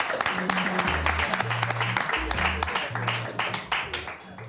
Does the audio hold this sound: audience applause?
yes